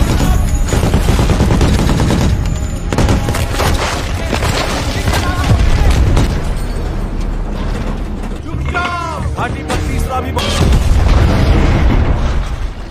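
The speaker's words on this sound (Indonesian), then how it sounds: "setelah makin dekat, mortar pun kembali ditembakkan" Mortar rounds fire and explode in a film battle scene about a mission to rescue three UAE soldiers: dense, loud booms and blasts with mechanical clatter, sustained throughout.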